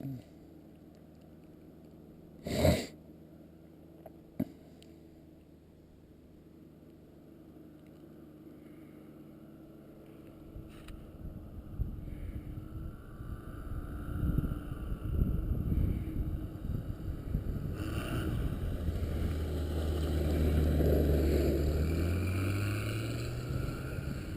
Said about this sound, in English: we'll let Ken come in and make another landing here